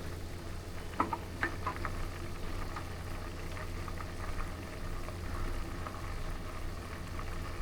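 Homemade pure cow ghee simmers in a pan with a steady soft bubbling and crackle, a few sharper pops early on, no voices over it.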